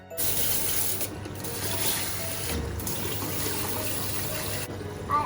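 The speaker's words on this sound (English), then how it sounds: "Now Mark is cleaning the machine." Water running steadily while an ice cream machine is washed in a factory, a continuous close splashing trickle with a few brief dips, no voices heard.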